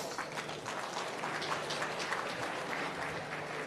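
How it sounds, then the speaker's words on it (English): An audience gives a round of applause at a political event, a dense, even patter of clapping that holds steady throughout with no voices heard. "Let's give him a round of applause."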